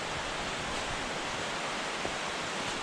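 Steady rushing roar of Aleko waterfall on Vitosha mountain, a broad continuous wash of falling water with light rain, unbroken and fairly close throughout.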